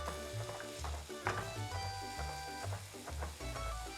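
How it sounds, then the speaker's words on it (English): Onions cooking in olive oil in a pan sizzle softly and steadily, with repeated scraping and stirring knocks from a utensil; a low hum runs underneath and there is no talk. "the onion when they are cooking in the olive oil"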